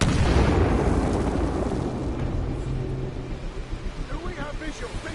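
A frag grenade blast in the video game Titanfall lands loud and close at the start, then a rumbling boom slowly fades into pulsing engine-like noise.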